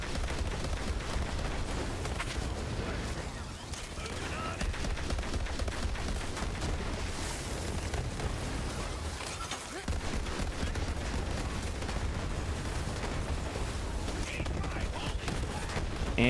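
Slow Hand, a legendary gun in Borderlands 3, fires in a steady, dense barrage of shots with explosive crackle, loud and continuous throughout, with game action noise layered beneath.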